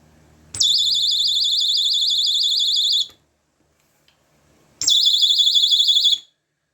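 A Quorum alarm blares a loud, warbling high-pitched electronic tone in two bursts, the first about two and a half seconds long, then a pause, then a shorter second burst.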